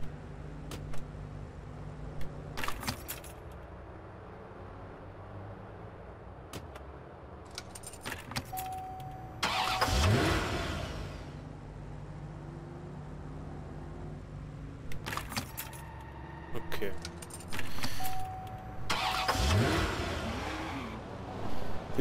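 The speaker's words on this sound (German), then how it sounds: "Von den Geräuschen her, vom Schlüssel umdrehen bis zum Motorstart" In the video game Watch Dogs, a car key turns and jingles before a Lamborghini engine cranks and starts, happening twice, with quiet clicks and other vehicle sounds between.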